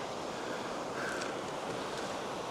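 Steady broadband rush of creek water flowing near rocks in the summer countryside of Alsace, a continuous even wash with no voices, slightly gusty and windy in character.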